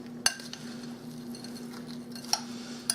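A spoon works through a meatloaf mixture soaked with beef broth in a bowl, giving a few sharp clinks against the side over a quiet, steady background hum.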